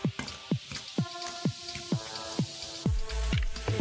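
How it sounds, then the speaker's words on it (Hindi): Sugar is mixed for a homemade sugar rocket, giving a steady series of about eight wet, squelchy plops at roughly half-second intervals, close and fairly loud. "और अभी अच्छी तरह इसको मिक्स कर लेंगे हम, पूरा मिक्स कर लेंगे अच्छी तरह।"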